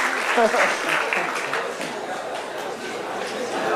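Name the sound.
applause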